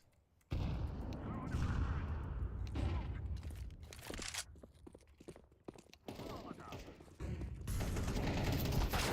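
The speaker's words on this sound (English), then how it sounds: "I'm throwing a grenade" Counter-Strike 2 match with a grenade thrown and going off, heard as sharp bursts and mechanical clicks amid gunfire, with quiet gaps between loud dense stretches.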